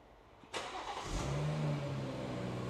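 A BMW 116i fitted with a swapped B58 engine cranks and fires up after sitting unused with a weak battery, catching sharply and settling into a loud, steady idle close by.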